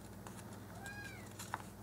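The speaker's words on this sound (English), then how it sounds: "if you hear that in the background, that's our new kitten. He's crying." A tiny young kitten gives a faint high meow in a quiet room, followed by a couple of soft clicks near the end.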